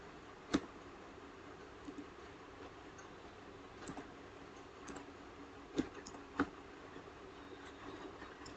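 Computer mouse clicks sound while a form is filled in online, a few sharp, isolated clicks spaced seconds apart over a quiet, steady room hiss.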